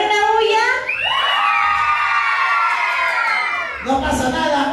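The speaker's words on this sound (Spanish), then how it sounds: "ahora vamos a gritar con niños" Children at a birthday party shouting and cheering together, a loud sustained group yell that swells and holds for several seconds before a new burst of cheering starts.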